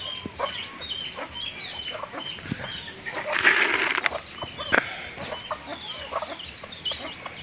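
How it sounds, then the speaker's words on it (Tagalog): Native chickens clucking at close range, a busy flock with overlapping calls and a louder burst midway, outdoors among light rustling on a small vegetable farm. "Yan po yung mga manok nating native."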